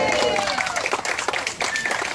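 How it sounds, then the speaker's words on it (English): An audience at an outdoor alligator show claps in a brief burst of applause, a dense patter mixed with voices and a few calls from the crowd. "How about a big round of applause for the"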